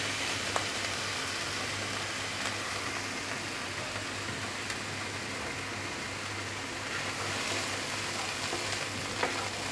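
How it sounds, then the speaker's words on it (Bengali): Fried pointed gourd (kakrol) goes into a pan with salt, turmeric and chili powder and is stirred, giving a steady, close hiss of sizzling oil with a few faint scraping clicks and no talking. "এখন ভাজা কাঁকরোলগুলো দিয়ে দেবো।"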